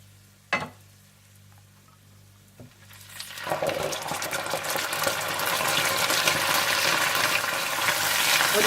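Yogurt poured into onions frying in a pan on the stove, with two sharp clinks first, then a sizzle that bursts in and swells into a loud, steady crackling hiss.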